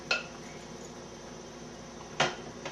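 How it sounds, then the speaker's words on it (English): Coronation chicken dip spooned into a serving dish, heard as two distinct spoon-on-dish clinks, one at the start and one near the end, over a quiet room hush. "I'm just going to spoon it into my dish."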